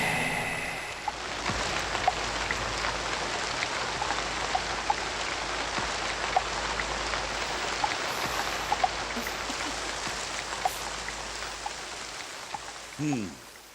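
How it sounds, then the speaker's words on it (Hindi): Steady rain hisses without pause, with occasional louder drips standing out from the constant downpour. "बाहर बारिश हो रही है।"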